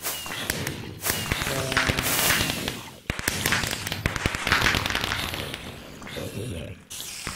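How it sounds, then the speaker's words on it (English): Fireworks in the Resonant Rise 3 video game, several sharp pops and crackling bursts scattered across the clip, fairly loud, with game sounds mixed in. "Yay, fireworks."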